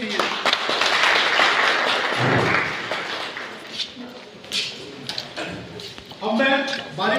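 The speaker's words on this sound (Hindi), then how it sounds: "तालियों की गड़गड़ाहट चालू रहनी चाहिए।" An audience applauds to welcome guests at a municipal sanitation workers' commission event: a burst of clapping that thins out after a few seconds, followed by scattered claps, knocks and someone speaking over a microphone.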